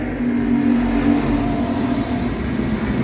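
Street stock race cars accelerating together off the green flag at a race start, a loud, steady engine roar from several cars with no talk over it.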